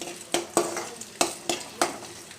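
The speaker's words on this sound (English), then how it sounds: "Add half inch size ginger. Keep it in low flame and cook this." Half-inch pieces of ginger cook in a pan over a low flame, with a soft steady sizzle under five or six sharp clacks of a utensil stirring against the pan.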